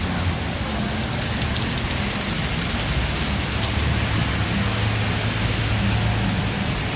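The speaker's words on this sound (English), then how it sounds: "It's been raining on and off all day." Rain falls on a street in South Beach, Miami, a dense, steady hiss of drops on pavement throughout, with faint low traffic rumble beneath and no voices.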